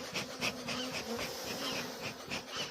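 Italian honeybees buzzing in a December hive inspection in Ankara, a soft, dense swarm hum with overlapping wingbeats rising and falling close by, with no voices.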